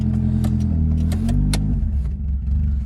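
The engine of a 1989 Mercury Grand Marquis runs loud and close with a deep, steady rumble, a brief rise in pitch, and a few sharp clicks and clatters over the idle.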